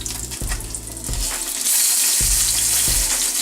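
Salmon fillet sears in a hot pan, a loud, steady crackling sizzle with a few sharp taps and scrapes of tongs against the pan, building fuller toward the end.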